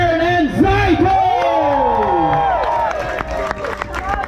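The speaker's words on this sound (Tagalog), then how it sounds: "let's give our hands for Learn and Zaito!" A crowd at a rap battle event cheers, whoops and claps loudly, with sweeping shouted voices over a dense wash of applause that gradually thins out.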